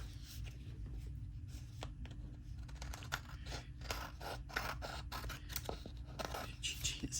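Scissors trim paper for a junk journal page, close up and fairly quiet, with a run of short crisp snips and scrapes over a low steady background hum.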